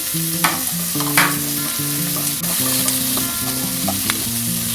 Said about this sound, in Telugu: ఇట్లా ఎర్రగయ్యే వరకు వేయించుకోవాలి.